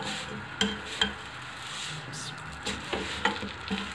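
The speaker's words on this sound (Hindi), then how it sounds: "और अब इस पे लगा रहे हैं घी" Desi ghee sizzling on a mooli paratha in a hot pan, a soft continuous crackle with a few sharper spatters and light scraping as it is spread, fairly quiet and close, with no talking.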